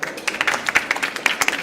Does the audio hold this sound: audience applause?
yes